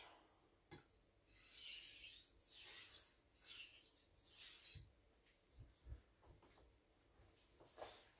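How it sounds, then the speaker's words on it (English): Knife edge stroked along a wooden dowel, strokes pulled away from the edge: a series of soft, raspy rubbing passes in uneven rhythm, close and fairly quiet, with a few light taps between strokes. "Stropping means going away from the edge, and I'm doing this on this dowel."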